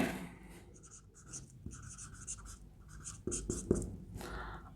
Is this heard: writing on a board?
yes